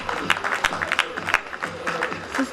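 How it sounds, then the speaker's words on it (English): Applause from the audience at a Nurses Day function as sisters receive mementos: scattered, uneven clapping with distinct sharp claps over a thinner crowd wash, plus faint background voices. "Round of big applause please while the sisters receive the memento"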